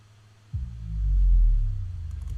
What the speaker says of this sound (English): it basically is like a sub drop